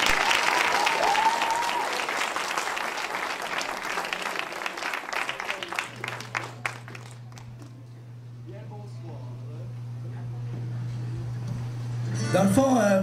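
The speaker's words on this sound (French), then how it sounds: "On les applaudit bien." An audience at a local final of a Cégep student performance show claps loudly for about six seconds. The applause then thins out and fades, leaving a low steady hum and faint room murmur.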